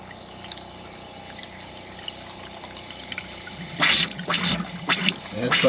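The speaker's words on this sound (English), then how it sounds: "A little bit of hot water still there trickling out." Hot water drains from a pipe in a Winnebago Wonder RV during winterizing, a faint steady trickle first, then louder splashing bursts of water in the last two seconds.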